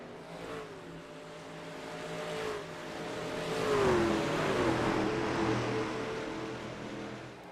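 Race truck engines drone around Darlington Raceway in iRacing, a pack of trucks running nose to tail with a continuous roar and rising, falling engine pitch as the pack swells and passes.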